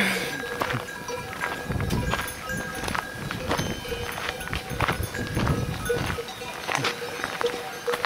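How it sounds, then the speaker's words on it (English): A flock of sheep and goats moves past with scattered bleats, shuffling hooves and rustling, busy and close throughout without any talk, on the Camino de Santiago between Mazarife and San Justo, Spain. "It's like a sea of sheep."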